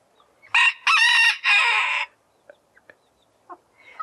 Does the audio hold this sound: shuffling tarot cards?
no